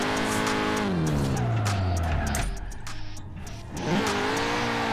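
A car in Forza Horizon 4 takes tight serpentine corners, its engine droning loudly while the tires squeal and the revs swoop down and back up, with a brief dip in the middle.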